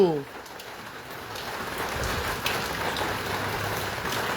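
Rain falling on a rainy day, a steady, moderately loud hiss of drops on surfaces that runs continuously after a brief tonal sound at the start.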